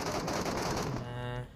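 Rapid bursts of automatic gunfire fill PUBG Mobile gameplay, a loud continuous rattle of shots that runs for over a second before cutting off.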